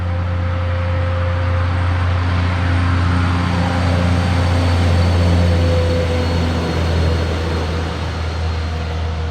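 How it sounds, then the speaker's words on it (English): A noisy truck drives past near a construction site, giving a loud, steady engine rumble with a low droning hum that swells slightly in the middle and continues throughout, with no talking. "We have a noisy truck coming by."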